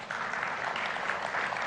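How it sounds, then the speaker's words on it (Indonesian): An audience at an evening charity event applauds together, a dense, even wash of many clapping hands held at a steady moderate level throughout. "Kita berikan tepuk tangan bersama."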